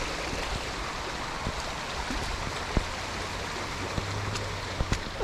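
Steady wash of water pouring down a flooded woodland path like a small waterfall, a continuous close rushing with a few scattered drips and splashes, no voices.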